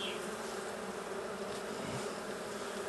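Honey bees buzz steadily and close during a hive inspection in Norfolk, a dense, even drone filling the whole moment with no talking.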